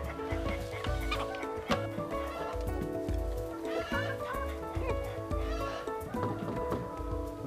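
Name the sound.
chickens clucking on a farm raised on soil-grown feed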